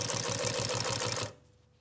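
Sewing machine stitching fabric, a fast steady mechanical clatter of rapid needle strokes, close and fairly loud for over a second before stopping abruptly into near silence.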